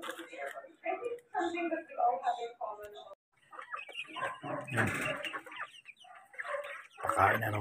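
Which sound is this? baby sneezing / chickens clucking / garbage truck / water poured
chickens clucking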